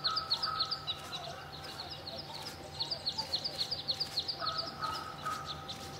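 Birds calling in the video game Uncertain, a flock of rhythmic gobbling, chirping calls repeating in bursts over a quiet ambient background, fairly faint and distant.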